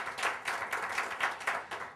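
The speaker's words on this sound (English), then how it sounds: "How about a round of applause for our school custodians?" An audience at a keynote talk applauds the school custodians, a steady, moderately distant wash of many hands clapping in a brisk, even rhythm.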